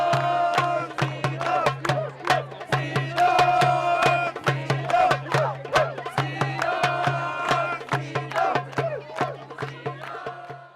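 Camp kids cheer at a local sports game, chanting in rhythmic bursts with claps and shouts, a lively crowd of voices rising and falling over a steady low hum.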